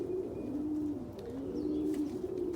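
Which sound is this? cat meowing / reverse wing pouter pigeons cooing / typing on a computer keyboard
reverse wing pouter pigeons cooing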